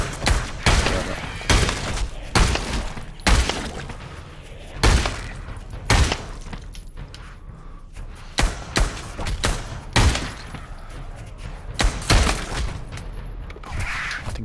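Gunshots from Pavlov VR, a virtual reality shooter, crack out loud and close in a repeated rhythm of single shots and short clusters spread across the whole stretch.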